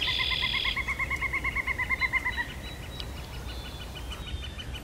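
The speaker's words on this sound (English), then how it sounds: "I hear signs of spring, like phoebes, tree swallows" Early May birdsong, with phoebes and tree swallows at a partly frozen lake in Sax-Zim Bog. A bird gives a quick run of repeated, evenly spaced notes, then a few fainter calls follow over a quiet outdoor background.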